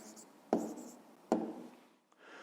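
A pen writes on paper during a fifth-grade maths exercise: two short, quiet scratching strokes about a second apart, then a faint tap, close and hushed.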